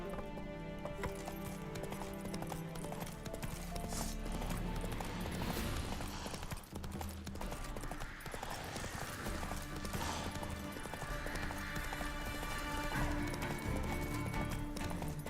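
Hooves of Roach, the horse in The Witcher 3: Wild Hunt Remastered, clatter along at a gallop, fairly faint and buried under dense, loud game music and ambience throughout.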